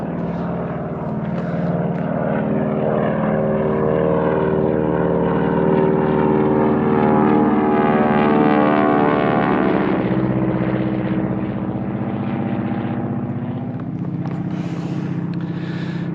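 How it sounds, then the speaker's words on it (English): A T-6 Texan propeller aircraft with a big round engine drones loudly overhead, its engine a steady throbbing roar that swells and then slowly eases off. "they'd get this T-6 Texan above me"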